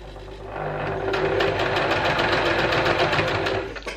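Sewing machine running a fast, even burst of stitches along a fabric face mask seam, a close rhythmic mechanical whir starting quickly and stopping after about three seconds.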